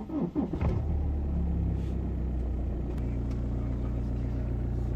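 A car with an automatic gearbox starts by push-button with the brake held, a brief cranking burst giving way to a steady, close engine idle rumble that continues to the end.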